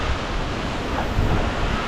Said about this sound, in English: definitely got a few gusts about to come on through